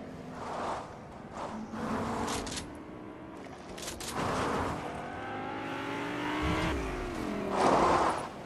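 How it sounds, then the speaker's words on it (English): A car, then a second one, approaches and drives past on a road, engines rising and falling and tires hissing, loud and close, with low voices talking quietly over it. "Oh, there's a car coming."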